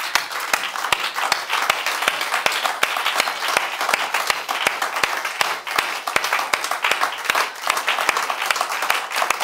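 A church congregation applauding for Jesus during a sermon, with a continuous round of clapping and sharp individual claps standing out in a fairly steady rhythm throughout.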